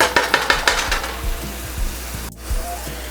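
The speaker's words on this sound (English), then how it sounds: "Saute this for a couple more minutes." Spicy Indian-style pork masala sautés in a pan with a loud close sizzle, broken by rapid rhythmic scraping and stirring strokes early on that ease into a steadier frying hiss with a few more stirs.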